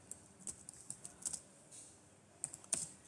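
Typing on a computer keyboard, quiet irregular bursts of light key clicks with short pauses between them.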